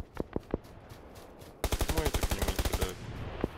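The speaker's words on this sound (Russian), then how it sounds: "Это близко, близко стреляет где-то." Gunfire in the battle royale game PUBG: a few single shots, then a rapid automatic burst of about a dozen rounds, fairly close, followed by one more distant shot.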